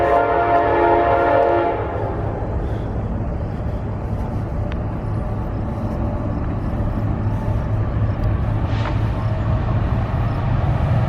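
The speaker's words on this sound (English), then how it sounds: "there's a train coming." A train passes near the Tolleston Dunes trailhead in Indiana Dunes, likely coming from the steel mills. A loud, steady horn blast opens the clip over a continuous low rumble of rolling cars that carries on to the end.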